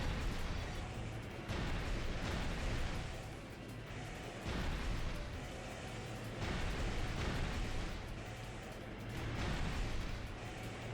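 Enemy fire rains on the player's mech in the video game Armored Core Nexus: a dense, continuous roar of booming blasts and gunfire that swells and eases in waves, loud and close throughout.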